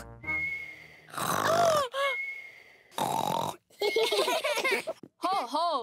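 A cartoon pig in a Spanish-language children's cartoon imitates loud snoring with exaggerated snorting, grunting inhales and whistling exhales, repeated in bursts, close and loud amid character voices.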